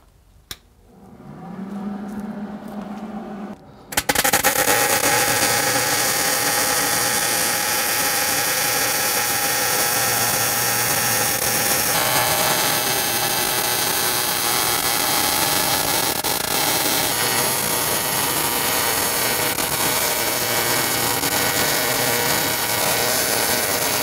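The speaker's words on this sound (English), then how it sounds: "I'm using the Hobart Handler 140 MIG welder." Hobart Handler 140 MIG welder running solid 030 wire with shielding gas at high settings on thick metal for a Kubota loader bucket shackle mount: a steady, loud, close crackling buzz that starts abruptly after a few seconds of quiet and holds for the rest.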